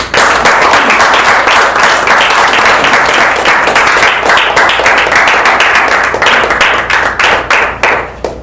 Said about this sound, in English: Help give it up with a hearty round of applause for our newest Toastmaster speaker this evening, Willie Naranjo.